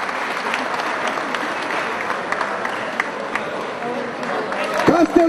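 A crowd applauds at an award ceremony at a football tournament final, sustained dense clapping throughout, with a voice rising over it near the end.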